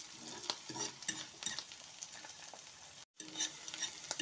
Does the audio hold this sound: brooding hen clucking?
no